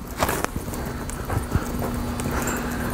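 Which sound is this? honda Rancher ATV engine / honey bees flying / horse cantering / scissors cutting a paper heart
horse cantering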